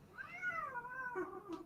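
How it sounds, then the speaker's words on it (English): A house cat gives one drawn-out, wavering meow that rises and falls, followed by a brief higher chirp, fairly faint and close indoors with no voices. "That's my cat."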